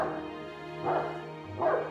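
A dog barks twice in the Guardians of the Galaxy video game, with two distinct barks about a second apart over a low, steady game background.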